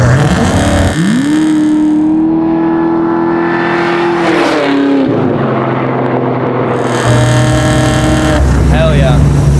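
A 750-horsepower LS9-powered Chevy Chevelle accelerates hard from a 50 mph roll-on, its engine note climbing through a gear, dropping at a shift, then pulling again, loud from inside the cabin with occupants talking over it.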